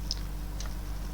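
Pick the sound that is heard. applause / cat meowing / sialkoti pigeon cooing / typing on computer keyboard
typing on computer keyboard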